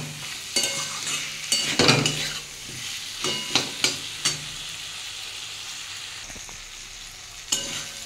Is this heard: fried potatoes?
yes